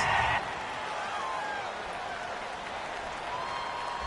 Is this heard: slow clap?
yes